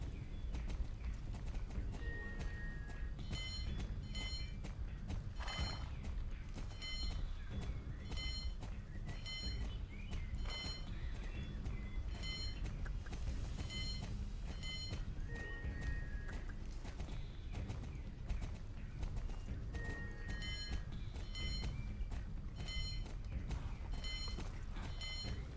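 Steady, rhythmic hoofbeats from a horse in a dressage ride in the video game Star Stable, continuous and evenly paced over game music.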